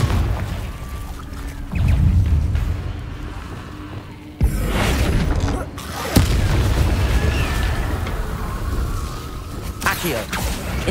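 Confringo blasting spells in Hogwarts Legacy go off in a series of heavy booms and bursts, with sharp blasts around the middle and a rumbling, busy combat background between them.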